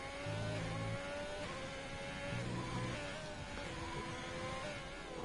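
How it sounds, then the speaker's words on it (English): Racing car engine in a sim racing game, revving hard and short-shifting up through the gears on a circuit, with steady loud engine tone rising and dropping at each shift throughout. "short shift up through the gears"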